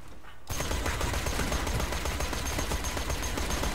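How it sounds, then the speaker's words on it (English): Rapid gunfire in Borderlands 2 aimed at a statue starts abruptly and continues as a fast, steady stream of shots, loud and close with no pause. "Let's shoot it with the weapon that we don't mind wasting ammo on."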